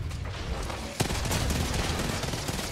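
Gunfire in a multiplayer shooter game, a sharp loud shot at about one second followed by a dense spread of distant rattling shots under constant game noise.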